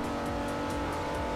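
Steady engine roar from a Ferrari 330 on a racetrack while passing a Mercedes, a constant loud drone held at an even pitch throughout this brief moment, with no voices.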